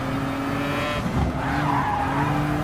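A Peugeot race car skids with tire squeal in Gran Turismo Sport, the loud engine drone and screeching tires running continuously through the short stretch with no talk.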